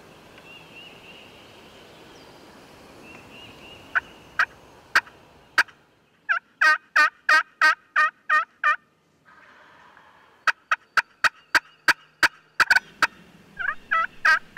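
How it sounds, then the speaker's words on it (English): Wild turkeys gobbling repeatedly on a Georgia farm on the opening of turkey season, loud rattling bursts echoing one after another over a faint outdoor background. "Woody and Michael have been on these turkeys all morning"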